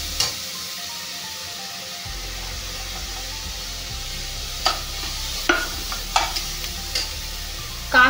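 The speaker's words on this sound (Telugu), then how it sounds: "కాస్త ఎర్రగా అయిన తర్వాత మనం పచ్చిమిరపకాయలు వేసేసుకుందాం." Green chillies sizzle steadily in a hot pan for a banana stem soup, with a few sharp spatula clicks and scrapes breaking through the frying hiss near the end.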